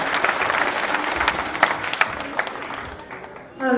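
A temple cultural program audience in Allentown claps for young performers, a dense and steady round of applause that fills the hall before fading, with a voice coming in at the end.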